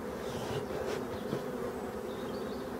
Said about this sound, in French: Donc l'abeille noire, c'est l'abeille du châtaignier.